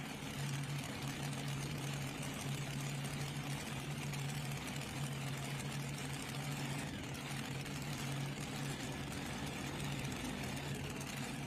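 A competition pulling tractor with injector hats idles steadily at a pulling event, a faint, even low rumble that runs on without a break and with no talk over it.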